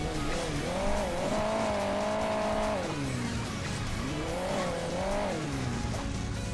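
A sports car in the mobile game Hill Climb Racing 2 drives over bumpy terrain, its engine droning steadily and rising and falling in pitch as it climbs and dips, continuous and close, with no voices.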